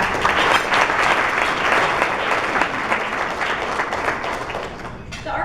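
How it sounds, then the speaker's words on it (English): Sustained applause fills a room at a regional planning council awards event, a dense steady wash of many hands clapping that holds at full strength and then tapers off at the end. "give them a round of applause"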